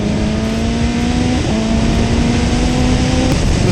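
Motorbike engine humming and revving at a steady pitch, loud and close, as if heard while riding, with a slight dip and recovery midway and no talk.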